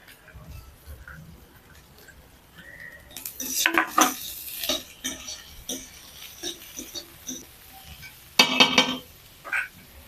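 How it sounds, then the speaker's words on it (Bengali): Chopped carrot and cabbage stir-fried in a pan with a metal spatula, giving repeated scraping and clattering strokes of varying loudness over a low background, with the loudest bursts near the middle and toward the end. "গাজরটাকে আমি কিছুক্ষণ ভেজে নিব।"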